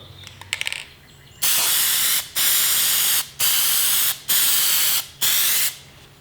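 Plasti Dip aerosol sprayed onto car emblems on an already dipped car, heard as five steady hissing bursts of about a second each, separated by short pauses, close and loud with no talking.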